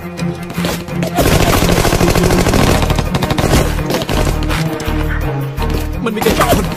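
Machine guns rattle in a Stalingrad war action film, loud rapid bursts of automatic gunfire crackling close and continuously with short pauses between volleys.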